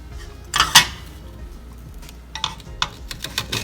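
A knife slices and dices food on a cutting board beside a stovetop while cooking Cuban-style pork meatballs and onions: a quick cluster of sharp chops, a pause, then a faster run of light, close clicks and taps.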